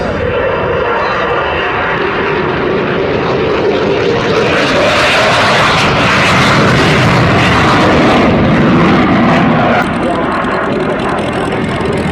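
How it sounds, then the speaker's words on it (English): US Air Force F-15 jets roar loudly overhead at the 2007 Duxford Flying Legends airshow, a sustained, powerful engine rush filling the whole stretch, with a voice faintly audible beneath. "the US Air Force hardware overhead, F-15s, KC-130s, and ladies and gentlemen, look at this"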